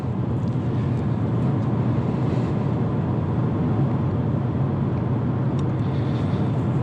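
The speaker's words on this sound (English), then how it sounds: "so now it's hauling ass. It's like flooring it, trying to get up to 70" A 2019 Toyota RAV4 pulls hard on the highway at full throttle, its engine roaring under a steady, loud wash of road and wind noise inside the cabin.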